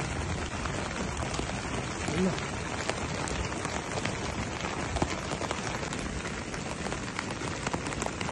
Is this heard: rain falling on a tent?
yes